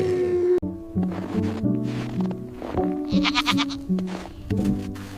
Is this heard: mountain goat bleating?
yes